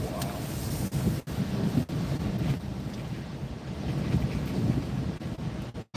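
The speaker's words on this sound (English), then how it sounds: "Highest gust so far, 64 miles an hour here." Strong wind gusts roar and buffet the microphone in the Pacific Northwest, a loud, continuous rush with sharp dropouts and surges, no talking.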